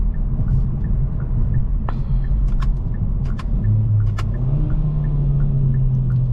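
A 2023 Kia Forte GT driven in sport mode gives a steady, loud low engine drone heard from inside the cabin, with the pitch climbing near the end as it pulls through the gears.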